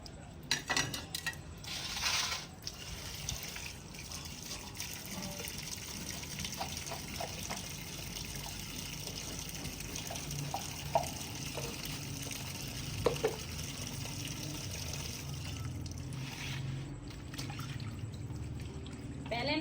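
Water pouring and splashing over chopped chicken feet being washed with salt after a vinegar rinse, a continuous nearby gush with scattered clinks and handling noises.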